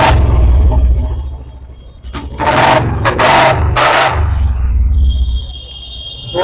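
A 2021 Royal Enfield Classic Bullet motorcycle engine, original and in first-owner condition, idles and revs in a steady loud thumping rumble, with bursts of throttle rising over it and a faint voice in the background.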